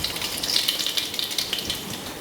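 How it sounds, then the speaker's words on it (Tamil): Fenugreek and mustard seeds fry in hot oil, giving a dense, steady crackling sizzle with sharp pops throughout, close and fairly loud, with no voices. "வெந்தயமும் கடுகும் பொரிஞ்சிருச்சு."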